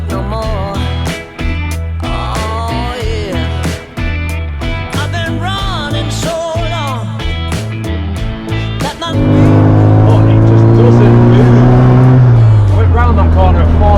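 A classic Mini's engine revs loud and close under excited talk, then settles into a steady, strong drone over the last few seconds.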